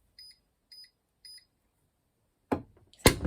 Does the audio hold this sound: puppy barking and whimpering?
no